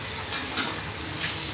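Onion fries in a kadhai over a large stove while a spatula stirs it, giving a steady close sizzle with a few light metallic scrapes and taps, with no talking.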